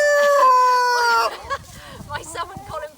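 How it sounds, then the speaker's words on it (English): A cockerel crows loudly nearby on a farm sanctuary, one long drawn-out call, then a flock of hens clucks in short soft bursts with faint voices underneath. "my son Colin Pierre, our one cockerel, and his 45 ladies"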